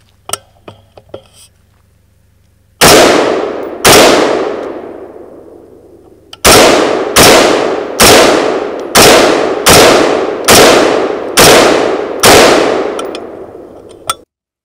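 Ten sharp, loud AR-15 shots of 5.56 ammunition, each a close crack with a ringing ping from a struck steel target. Two come spaced apart, then after a pause eight arrive in quick, even succession.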